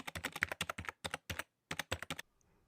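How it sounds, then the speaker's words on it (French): Rapid bursts of keystrokes on a computer keyboard, close and crisp, typed in short irregular clusters with brief pauses, then stopping, with no voices. "se pencha pour tapoter le clavier"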